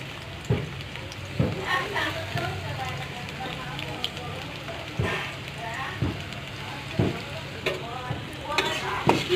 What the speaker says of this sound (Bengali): এরপর কিছু সময় ভেজে নিব।